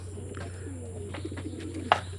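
A racing pigeon that has just landed after a pooling race coos softly in a few low murmurs over a steady hum, ending with a brief sharper call.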